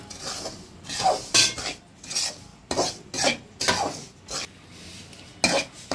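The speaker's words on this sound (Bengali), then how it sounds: "সুজিটা আগেই আমি শুকনো কড়াই তেলে রাখছিলাম, এখন আবার একটু ঘিয়ে ভেজে নেব।" Semolina frying in ghee in a wok, stirred in repeated rhythmic scraping strokes of a spoon against the pan, close and moderately quiet, with short pauses between bursts and no talking.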